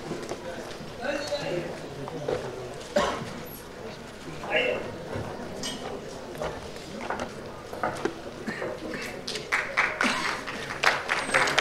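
A crowd at a media awards show applauds an actor coming on stage, a steady broad wash of clapping that swells and fades beneath an announcer's continuous talk and background music.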